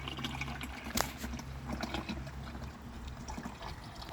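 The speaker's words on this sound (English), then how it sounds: "Just turn that into your empty container from earlier and get all that nice satisfying pour going on" A steady trickling pour of used engine oil from a Toyota 1ZZ-FE engine draining into a container, continuous and close, with small splashes and gurgles throughout.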